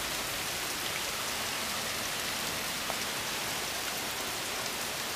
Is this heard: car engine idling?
no